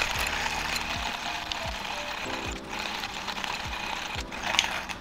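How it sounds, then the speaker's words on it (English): A Porlex Mini hand grinder grinds coffee beans with a steady, close, dry mechanical rasp, broken by regular cranking pulses about every second, with no talking. "Grind until you can hear no more beans being ground up"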